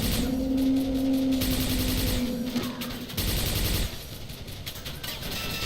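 Sustained machine-gun fire in the Quake 4 video game, rapid bursts of loud, close shots in dense rhythmic runs with brief pauses between volleys.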